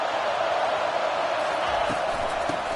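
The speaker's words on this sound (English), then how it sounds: "this crowd is fired up. Listen to this noise here." A fired-up football stadium crowd at an FSU game roars as a steady, dense wall of noise, constant and loud throughout with no break.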